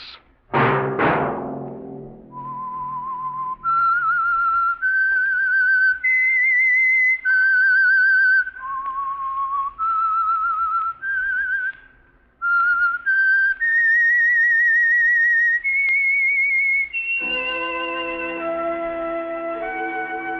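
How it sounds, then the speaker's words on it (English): A clear, melodic whistle carries a bright tune of sustained rising and falling notes, loud and close, before fuller music swells in at the end, the signature whistle of a 1948 radio drama. "Let that whistle be your signal for the Signal Oil program"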